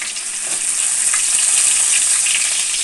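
Onion sizzling and frying in hot oil, a loud, steady crackle close up with no talking.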